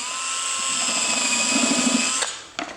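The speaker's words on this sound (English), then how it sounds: "While I pilot the other holes and get ready to drive screws" A power drill bores pilot holes for screws in particle board while a toolchest pullout is built. It gives a close, loud, steady high whine that wavers as it bites, then cuts off with a couple of short knocks.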